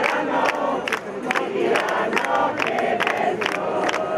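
A protesting crowd in Urbino singing Bella Ciao, a loud chanting mass of voices punctuated by regular sharp whistle blasts, continuous and fairly close.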